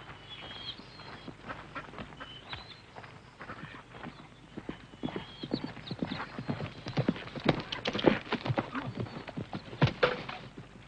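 Several horses ride off together, hooves clip-clopping in a dense, uneven rhythm that grows louder and busier toward the end, with an occasional whinny mixed in, in a 1954 western setting.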